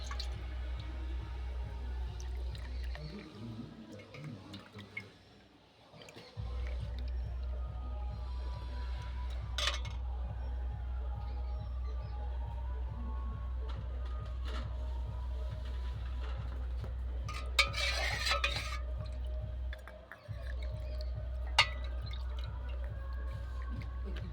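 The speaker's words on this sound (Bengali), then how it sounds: "এইবার আমি চামচ করে তুলে আমি ভাঁড়ের মধ্যে দেব।" Curdled sour yogurt and milk are spooned into a clay pot for homemade mishti doi, giving soft wet drips and squelches that are faint beneath a steady throbbing background hum, with no talk.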